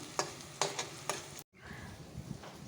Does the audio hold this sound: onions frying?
yes